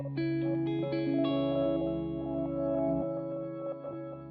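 Sustained guitar notes smeared into a shimmering, layered wash by the granular mode of a Matthews Technician delay/reverb/looper pedal, with overlapping drones and glittering fragments, no voices.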